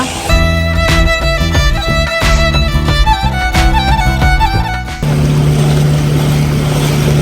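Music plays loudly at first, then cuts to a boat ride on the sea near Rock Beach, where a steady engine drone and broad wash of water and wind carry on.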